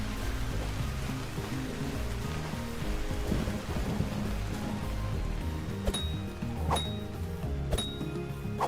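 Rain falls steadily in the video game Vintage Story while low thunder rumbles underneath, and a few sharp clinking ticks come through toward the end.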